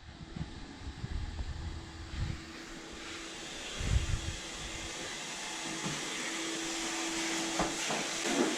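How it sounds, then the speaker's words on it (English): A vacuum cleaner drones steadily with a rising whine, punctuated by a few bumps and knocks as it moves. "Proof that a man does use a vacuum cleaner."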